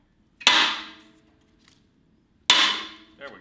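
A hammer strikes a Miata brake rotor being knocked loose for a cross kart build. Two sharp metallic blows land about two seconds apart, each ringing briefly before fading in a quiet workshop.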